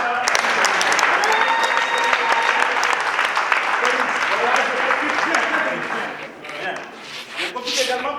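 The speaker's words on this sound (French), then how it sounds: "on va applaudir très très fort pour les MC de la soirée" A theatre audience applauds loudly for the evening's MCs after a stage play, dense clapping sustained for about six seconds before thinning out, with a voice audible over it.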